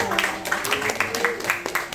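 An audience claps in quick, steady unison for Pak Kun at a company gathering in Purbalingga, the even beats running briefly under a speaking voice.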